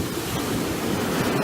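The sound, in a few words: ocean waves on a beach in the early morning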